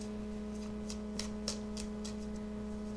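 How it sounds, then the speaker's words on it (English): Soft, rapid riffling of cards in quick bursts over a steady low hum, close by and fairly quiet, with no voices. "Give me just a few more seconds while I shuffle the cards."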